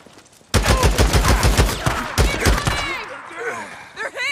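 Rapid bursts of gunfire in the Days Gone video game on PS5, a loud dense volley of repeated shots that tails off into scattered fire, with shouted voices mixed in.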